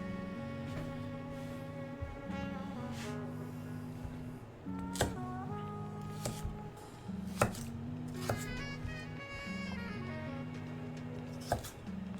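A knife chops green onion and celery on a cutting board with irregular sharp knocks over a continuous low hum, some strikes loud and close, others faint, and no voices.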